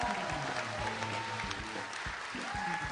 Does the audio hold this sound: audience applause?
yes